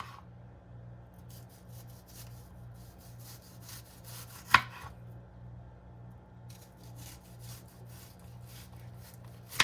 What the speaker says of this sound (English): let's get started on peeling and chopping our onion